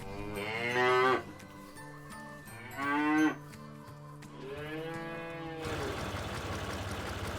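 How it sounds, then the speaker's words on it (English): A cow lows two loud, drawn-out moos in close succession, followed by a softer, longer moo and a patch of farmyard background noise. "Repeat after me. Cow."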